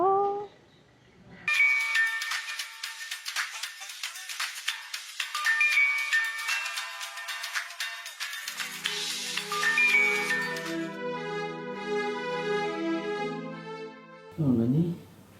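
A mobile phone ringtone plays a bright repeating electronic melody that starts after a short voice, changes to a lower pattern midway, stops, and is followed by a brief voice at the end.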